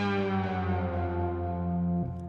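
A sustained synth tone with rich harmonics, shaped by a pitch envelope, starts above the triggered note and slides gradually down to it, then settles and cuts off after about two seconds.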